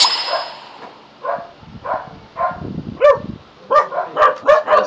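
A dog barks repeatedly in short, sharp bursts that grow more frequent and louder toward the end, fairly close by, with no talking.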